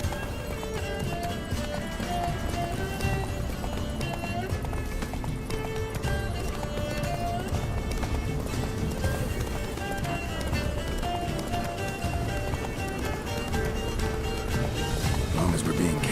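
The horse Roach galloping in a video game, a steady rhythmic clip-clop of hooves running continuously under a music bed, with voices talking at points.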